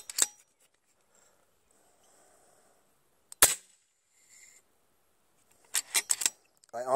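An FX Impact M3 air rifle fires several times, each shot a sharp, close crack with a quick tail. The shots come spaced apart, with small clicks and handling noise between them and a quick burst of shots near the end.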